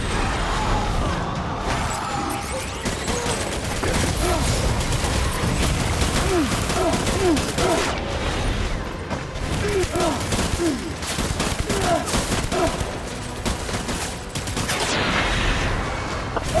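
Dense gunfire rolls through a battle in the video game Death Stranding, bursts of automatic fire and scattered shots layered with crashes, loud and continuous for the whole stretch.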